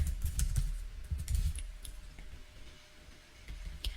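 Close, crisp tapping on a computer keyboard comes in quick clusters of keystrokes with brief pauses, over a low background rumble.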